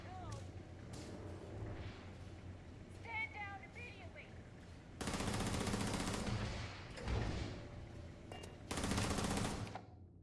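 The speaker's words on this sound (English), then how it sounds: "Oh, shooting at me." Enemy gunfire in the space game Starfield: two long stretches of loud, rapid automatic shooting crackle densely after a quieter stretch with a voice and electronic chirps.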